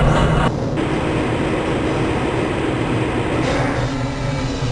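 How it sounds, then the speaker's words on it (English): In the video game Half-Life: Blue Shift, a transit train rolls steadily through the Black Mesa compound with a loud, continuous rumble and a faint rhythmic rattle, with no voices heard. "This train is inbound from the Area 8 topside dormitories to the Central Transit Hub in Area 9."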